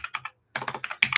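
Quick bursts of keystrokes on a computer keyboard, a few close taps, a brief pause, then a denser run of clattering typing, near and fairly quiet.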